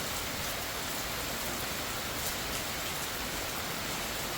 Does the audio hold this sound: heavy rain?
yes